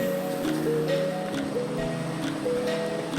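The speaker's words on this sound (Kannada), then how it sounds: "ಬಂಡೆ ಬಂಡೆಗಳ ಮಧ್ಯದಲ್ಲಿ ಹರಿದು ಬರುವ ನೀರುವೆ ಕಾವೇರಿ ನದಿ ಒಳ್ಳೆ ಶುದ್ಧವಾಗಿ ಹರಿದು ಬರ್ತದೆ ನೀರು" Kaveri river water rushing among large rocks at Hogenakkal falls in Tamil Nadu, a loud, continuous broadband roar heard up close with no speech over it.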